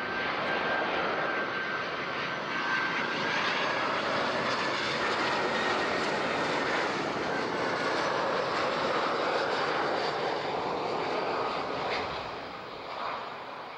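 An airliner on approach to Zurich airport runway 14 makes a sustained jet engine roar that swells gradually, holds loud and broadband, then eases off near the end, with a thin whine riding above the rumble.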